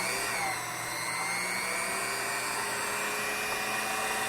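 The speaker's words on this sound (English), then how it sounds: "We're going to put a key on the end so we can rotate our shaft. Turn our machine on." Locksmith's key cutting machine running steadily, a continuous high-pitched whirring motor drone with no talk.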